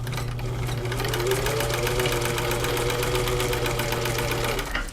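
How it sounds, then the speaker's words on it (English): A vintage Pfaff 30 sewing machine stitches through leather, its motor humming and the needle clattering in a fast, even rhythm, close and steady throughout before stopping at the end. "So let's see how she does with all this leather."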